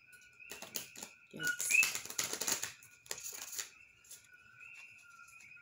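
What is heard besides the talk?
tarot cards being shuffled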